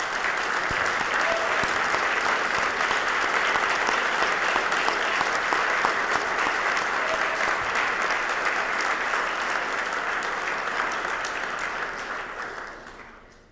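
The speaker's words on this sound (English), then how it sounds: "let's give a round of applause to all of those who are here tonight" Sustained audience applause fills a Hall of Fame anniversary dinner hall, a dense steady wash of many hands clapping that holds for over ten seconds before tapering off at the end.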